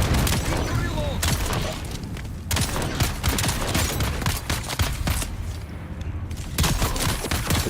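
Rapid gunfire in the video game Dune, dense continuous bursts of shots close and loud for several seconds, with brief gaps and a voice talking over the shooting.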